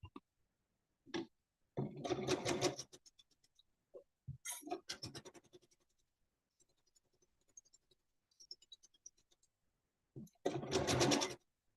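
A sewing machine stitches quilt pieces together in a few separate bursts of rapid mechanical whirring, close and fairly loud, with quiet handling noises and pauses between runs.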